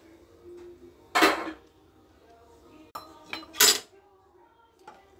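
A spoon clinks and scrapes against a pot as caramel mixture is stirred into milk for homemade sweet yogurt, in a few separate metallic bursts with quiet gaps between.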